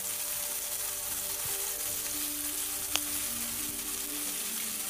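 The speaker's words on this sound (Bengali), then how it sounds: "ডিমটা দিয়ে একটু নেড়ে ছেড়ে এটাকে একটু ভাজা হতে দেব" An egg frying in a pan among meat and snake gourd, a soft, even sizzle running throughout with one brief sharp click midway.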